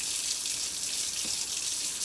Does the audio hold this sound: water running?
yes